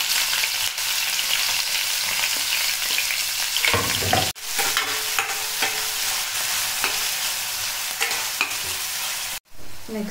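Chopped onions frying with cumin seeds in a pan for a spring onion and tomato curry, a loud continuous sizzle with scraping stir strokes and a couple of sharp clanks, close up and without voices.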